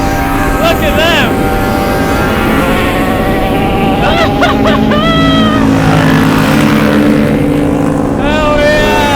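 A small motorbike engine strains uphill with a steady loud drone, while voices talk over it throughout.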